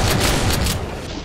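Gunfire and blasts from the first-person shooter GZDoom running the Brutal Doom mod, with dense, loud, continuous volleys of shots and booms filling the whole moment and no talk over them.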